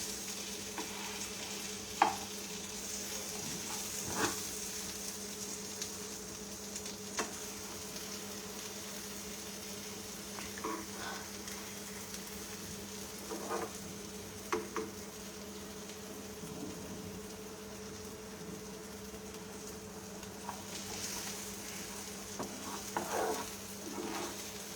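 Spiced food frying gently over lowered heat in a pan during a live cooking show, a soft steady sizzle with occasional scrapes and knocks of stirring, fairly quiet and without talk.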